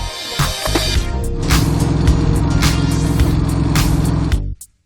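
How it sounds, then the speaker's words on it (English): A pickup truck drives past with a loud, steady engine rumble and some revving, holding close and strong for several seconds before cutting off abruptly at the end. "Pickup truck."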